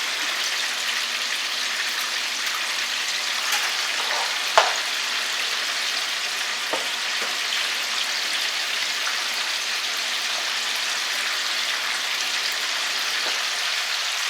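Buttermilk-battered chicken fries in hot oil until brown, giving a steady, even crackling sizzle throughout with a couple of brief louder pops and no voices.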